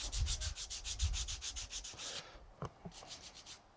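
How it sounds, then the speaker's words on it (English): Guitar frets are sanded with 400 grit foam sandpaper in quick, even back-and-forth rasping strokes, about a dozen close rubs that stop midway, followed by a few soft knocks and handling sounds. "Now I'm gonna start with 400 grit using just this foam"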